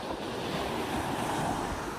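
Sea waves wash steadily around fishing boats off the Philippines, a continuous soft surf roar with wind rumble across the microphone, no voices.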